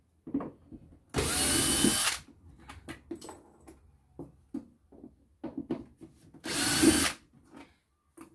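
Power drill backing out a screw on plastic trim while a motorhome is being taken apart; two loud whirring bursts of about a second each, close up, with clicks and handling noises between them and no speech.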